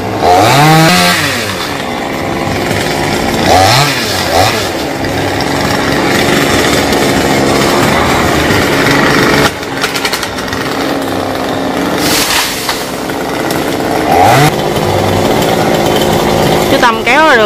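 A chainsaw cuts through large branches of a rain tree, its engine loud and close, revving up and down repeatedly across a long stretch, with people talking over it.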